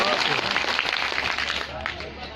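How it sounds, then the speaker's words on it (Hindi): A large audience under a tent at a ghazal recital claps loudly and fast in a brief dense burst, with a low hum beneath. "पूरा पंडाल जोरदार तालियां बजाकर"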